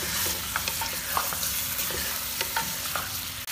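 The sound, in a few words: frying chicken with ginger garlic in a karahi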